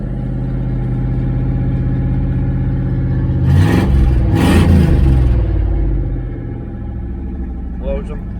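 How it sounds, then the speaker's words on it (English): A 1976 El Camino with a new exhaust system and its exhaust cutouts open idles with a deep, steady rumble, then revs hard twice in quick succession, loud and close, before settling back to idle. "I'll rev it up a little bit. We'll open up the exhaust cutouts."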